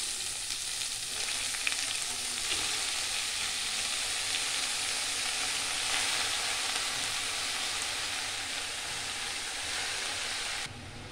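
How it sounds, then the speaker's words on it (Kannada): Rajgiri (amaranth) greens stir-frying in a little oil with green chillies, a steady close sizzle running the whole time with faint stirring scrapes, ending abruptly. "ಈ ಥರ ಕೈ ಆಡಿಸಿ ಸ್ವಲ್ಪ ಹುರಿಬೇಕು ಚೆನ್ನಾಗಿ."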